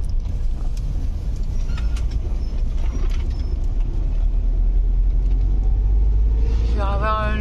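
A camper van driving on a rough off-road track, a loud, constant low engine and road rumble with knocks and rattles, under people talking.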